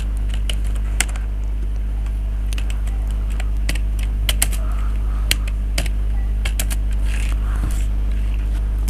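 Bangla text typed on a computer keyboard under Windows 10: an irregular patter of close, crisp key clicks over a steady low hum, with no one talking.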